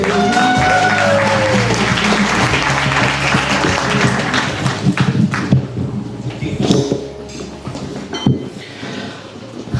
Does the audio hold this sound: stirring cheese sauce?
no